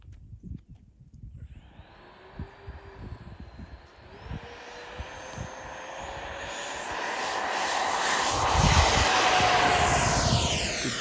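A model Arrows MiG-29 jet with afterburners takes off, its engine whine rising steadily in pitch and growing louder over about eleven seconds amid wind and outdoor rumble.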